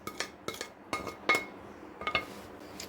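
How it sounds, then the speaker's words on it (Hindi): Boiled pasta and fried vegetables tipped into a saucepan of white sauce, with a series of sharp metallic clinks and knocks of a spoon against the pan, close and moderately loud, irregular over a few seconds. "इसमें हम डाल देंगे बॉयल किया हुआ पास्ता और जो वेजिटेबल्स हमने फ्राई करके रखी थी वो भी हम इसमें डाल देंगे"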